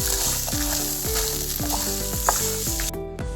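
Spices for a Kerala fish curry, chillies and coriander among them, frying in a hot pan, a loud continuous sizzle with stirring scrapes and clinks repeating every half second or so, close up and with no voices.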